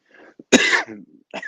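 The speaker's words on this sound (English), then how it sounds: "I'm coughing." A single harsh cough bursts out close to the mic during a live podcast in a man cave, with softer throat sounds and breathy noises before and after.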